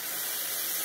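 Thetrankottai tea boiling in a pot on a stove, a steady close hiss of steam and bubbling that stays even and unbroken throughout.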